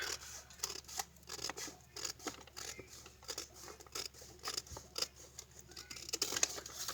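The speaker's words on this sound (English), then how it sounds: "And my scissor, so just cut off what you don't need here." Scissors cut paper while trimming a handmade journal, producing a rapid, regular series of crisp snips heard up close in an otherwise quiet room.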